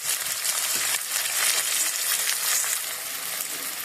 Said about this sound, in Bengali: এই যে রসুন সাথে আমি পেঁয়াজ আর যে আপনার আদা রসুন বাটা এটাও ভাজে নিতেছি।